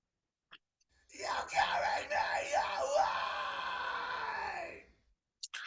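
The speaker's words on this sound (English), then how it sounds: "that's the high scream that overdubs that low scream" A sustained, strained high-pitched vocal scream with wavering pitch, loud and continuous for about four seconds, then cutting off.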